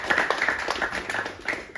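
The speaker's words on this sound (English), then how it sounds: "round of applause, guys" Hands clap in a small, uneven burst of applause for the Samoa U19 men's team at a jersey presentation, several people clapping fairly close by for under two seconds.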